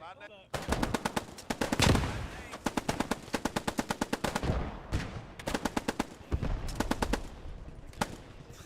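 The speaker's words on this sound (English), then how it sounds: "Shooting through the floor. Trying to shoot through the wall." Rapid automatic gunfire in the World War II shooter Post Scriptum during a Market Garden realism event, with long loud bursts of sharp shots broken by brief pauses, fired through floors and walls.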